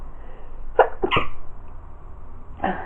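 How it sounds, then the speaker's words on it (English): A close sneeze with a quick double burst, then another short sneeze a moment later, alone in a quiet room. "I'm going to sneeze."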